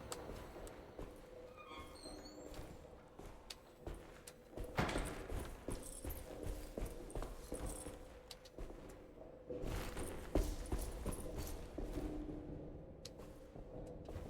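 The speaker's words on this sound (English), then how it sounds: "I still hear of his footsteps, though." Footsteps in the Alone in the Dark video game, soft clopping steps that fall in irregular bursts beneath quiet ambient game sound.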